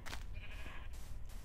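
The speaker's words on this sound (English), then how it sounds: "unsuspecting sheep across the way over here" A Minecraft sheep gives a single short, faint bleat over a low, noisy background, with no talk heard.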